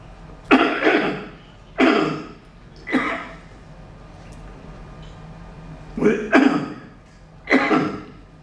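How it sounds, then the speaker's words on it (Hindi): A person coughs repeatedly, about six harsh bursts spaced a second or two apart, some in quick pairs, close and loud in a quiet room. "आते आते खांसी आ गई।"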